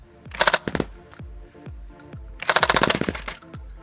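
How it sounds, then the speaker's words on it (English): BOOMco Halo MA5 toy blaster rifle firing two quick bursts of foam darts, each a rapid string of sharp mechanical clacks and thumps, close and loud with brief pauses between bursts. "I'm gonna do a burst controlled fire first"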